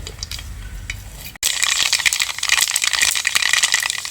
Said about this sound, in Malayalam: കടുക് ഏകദേശം ആയില്ലേ കടുക് പൊട്ടി